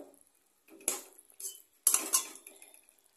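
Potatoes stirred in a cooking pan with turmeric and salt, heard as a few short metallic scrapes and clinks of a utensil against the pan in separate bursts, close and fairly quiet with pauses between.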